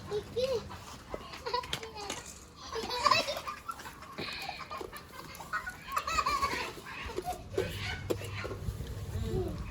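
Chickens clucking at a backyard coop, scattered clucks and fowl calls mixed with children's chatter and playful voices throughout.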